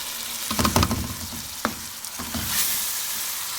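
Beef karahi with yogurt sizzling and frying in a pan as it is stirred, with a few scraping stir strokes over a steady close crackle and no talking.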